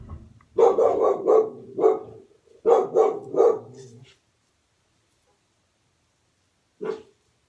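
A dog barks in several quick bursts, close and loud, then falls silent before one last short bark.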